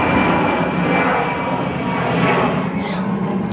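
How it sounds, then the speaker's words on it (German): A fixed-wing aircraft flies low overhead near an airport during an outdoor barbecue, its engine a loud continuous roar that fills the whole stretch without letting up. "mit Flugzeugen, die mir hier über die Birne fliegen"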